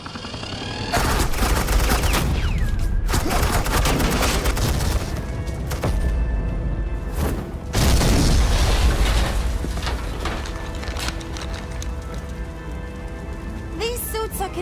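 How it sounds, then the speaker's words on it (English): Suppressing gunfire in a Batman video game, dense sustained bursts of shots and booms layered with music and effects, loud and continuous with short breaks, while a voice talks over parts of it. "suppressing fire"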